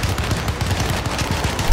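Tommy gun in the 2024 PC remake of Alone in the Dark, firing one rapid, sustained automatic burst of loud, punchy shots that runs the whole time.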